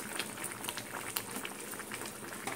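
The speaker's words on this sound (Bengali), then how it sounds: "এইভাবে ফুটবে" Chilli chicken sauce bubbling in a pan, a quiet steady simmer of small popping bubbles and light crackles throughout, with no talking over it.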